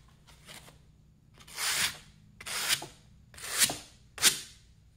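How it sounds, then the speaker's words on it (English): A casting pattern set in sand inside a flask is tapped to loosen it, giving four or five separate close, scraping knocks spaced about a second apart against a quiet background. "Tap the pattern in different directions to try to really loosen it up"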